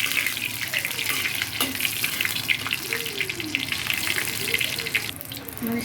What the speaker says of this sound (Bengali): আগে মরিচটা ভেজে নিই।